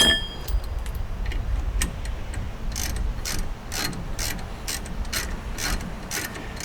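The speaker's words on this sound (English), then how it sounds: "you're not going to really start to screw these in until you can feel them grab and you hear that little click" A brake line fitting on the rear brakes of a Toyota Tundra is threaded in, giving a close series of small, sharp ratcheting clicks at a fairly regular pace, with no talking.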